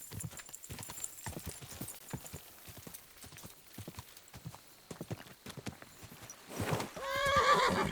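Horse hooves clip-clopping in the video game Kingdom Come: Deliverance II, a steady run of hoofbeats followed by a loud, close neigh near the end, with no talk over them.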